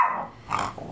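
A small dog lets out a brief low growl followed by a short whiny yip, close and moderately loud, with no talking over it.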